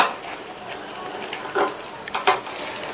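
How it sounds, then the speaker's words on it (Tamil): Fried potatoes stirred into a simmering yogurt mixture in a pan, a soft steady sizzle underneath with a few spoon scrapes and clinks against the pan toward the end. "உருளைக்கிழங்கு சேர்த்துட்டு நல்லா மிக்ஸ் பண்ணி விட்டுட்டு"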